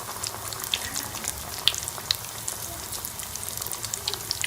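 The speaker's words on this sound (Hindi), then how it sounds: "दोनों साइडों से गोल्डन कलर आने तक हम इसे फ्राई कर लेंगे" Bread balls fry in hot oil, a steady close bubbling sizzle with scattered small pops and crackles throughout.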